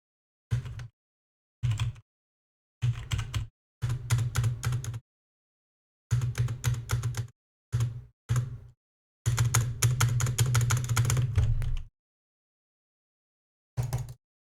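Bursts of computer keyboard typing, close and clicky, come in short clusters separated by silent gaps, with one long rapid run near the end and a final brief tap.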